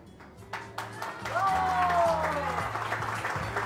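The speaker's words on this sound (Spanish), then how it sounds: "Fuerte los aplausos para la mamita" Guests at a quinceañera applaud the birthday girl's mother, a swelling burst of clapping with a crowd murmur and background music beneath it.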